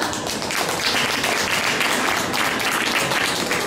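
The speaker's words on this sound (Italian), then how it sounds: "cominciamo a fare un applauso per queste attività" Audience clapping at a Miss Vesuvio pageant evening in a Naples shopping centre, a dense, even wash of many hands applauding continuously and fairly loud throughout.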